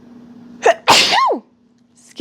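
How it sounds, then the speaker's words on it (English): A single sharp human sneeze, loud and close. A short breathy intake comes before it, and a brief vocal sound follows, set in a quiet indoor room. "do you have another sneeze coming?"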